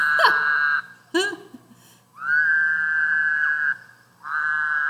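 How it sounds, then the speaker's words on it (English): A Woodhouse's toad gives loud, nasal, buzzy calls, a short opening squawk and stutter followed by two long droning bleats separated by a brief pause, close and clear with no talk. "This is a woodhouse toad."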